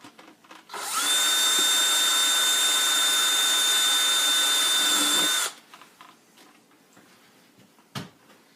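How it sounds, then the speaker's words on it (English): A power drill bores a hole through an AM 4.0 stunt helmet, running loud and steady for about four seconds before cutting off, followed by quiet handling noises and a short knock. "and then I'll drill that hole."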